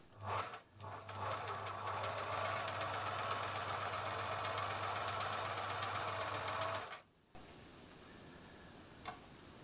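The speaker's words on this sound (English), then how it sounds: "the machine seems a bit noisier too, and I think that's because of the tight tension" Singer 700 Series sewing machine stitching straight with its top thread tension set too tight, a steady, fairly loud mechanical whir and rapid ticking that runs for several seconds, then stops abruptly.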